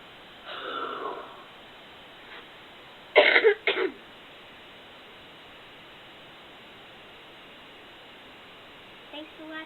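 A huff cough done to clear mucus from the lungs: a soft breathy exhale, then two sharp, forceful close coughs in quick succession, with quiet background between.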